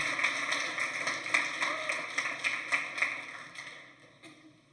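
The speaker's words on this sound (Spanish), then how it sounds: "Dale un fuerte aplauso al Señor" A congregation claps together at a Spanish-language church service, a steady rhythmic beat of many hands heard from a distance and fairly quiet, fading out toward the end.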